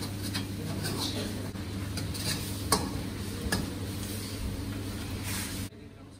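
Ingredients sautéing in a pan over a low flame while making Kerala kizhi porotta, a soft continuous sizzle under a steady low hum, with occasional ticks and one sharper clack before it cuts off.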